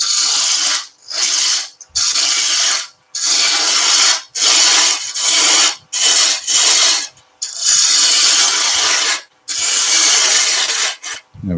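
Roughing gouge taking bulk wood off a center spindle turning on a lathe, loud close rasping cuts in repeated passes of about a second each, separated by brief silent gaps, with no talking.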